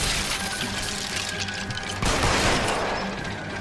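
Gunfire in a L.A. Noire chase, heard as a dense crackling burst of shots over a noisy game soundscape, with a louder surge partway through.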